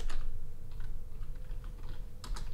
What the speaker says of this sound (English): we're going to click on hello and type in